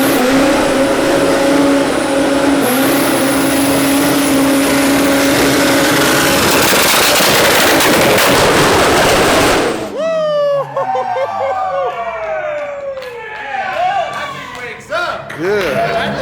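A 725hp twin-turbo rotary engine in a Mazda FD RX-7 roars loud and steady at high revs, then cuts off abruptly into sharp pops and rising, falling revs as people talk excitedly nearby.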